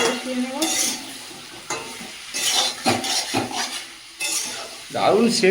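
Mutton curry made from a large local goat, with fried potatoes, is stirred in a pan. Irregular scraping strokes sit over a soft frying sizzle, with a person talking between the strokes.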